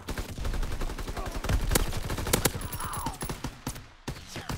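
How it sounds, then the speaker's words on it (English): Rapid hip-fire gunshots ring out in a WW2 video game, a dense, loud burst of automatic fire with sharp repeated cracks and some scattered extra shots, heard alone without talk. "Accurate hip fire. I like it."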